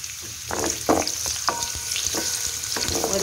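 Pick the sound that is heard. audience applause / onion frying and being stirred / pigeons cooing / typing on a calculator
onion frying and being stirred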